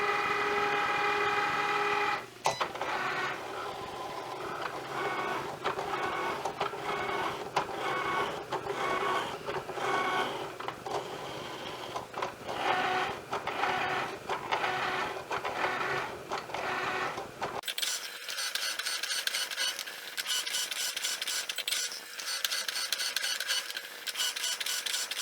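A Cricut cutting machine cuts a scallop spine from material loaded on its mat, running as a steady mechanical whir with rhythmic pulses for most of the clip, then shifting to a thinner, higher-pitched buzzing stretch near the end; no one speaks.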